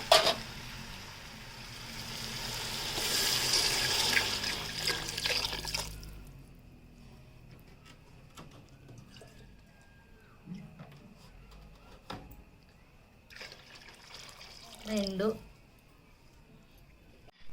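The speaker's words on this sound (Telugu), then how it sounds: "ఇప్పుడైతే నీళ్ళు అయితే వేస్తాను" Water pours into a cooking pot of rice and mixed vegetables with a rushing splash for about six seconds, followed by quieter clinks and faint voices in the background.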